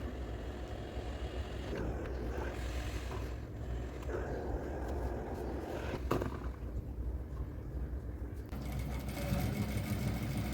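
A sewing machine stitches a fabric shoulder-bag strap, a faint, steady motor hum running throughout with slight shifts in pace, heard alone at low level.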